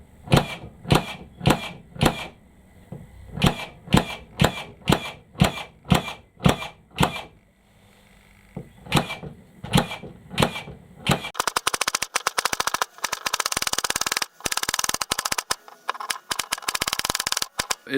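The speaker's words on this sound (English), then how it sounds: "Let's fire some nails." A Hitachi (Hikoki, Metabo HPT) 18V cordless brad nailer fires repeatedly in quick bursts of sharp, close clacking shots, pausing briefly before another run, then giving way to a dense, loud stretch of rattling clatter.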